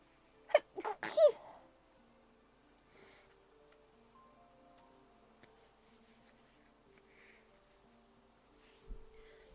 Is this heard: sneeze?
yes